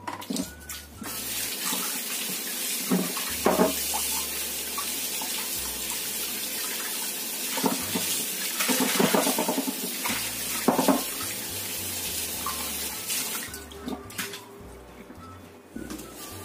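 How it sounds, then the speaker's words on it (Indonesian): Octopus rinsed clean under a running tap, with a continuous splashing stream of water and shifting gurgles as the flow is interrupted and resumed, close and steady throughout. "Ini kita bilas sampai bersih."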